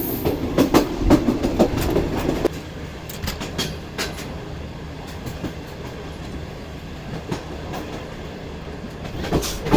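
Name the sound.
passenger train approaching Lakki Shah Saddar railway station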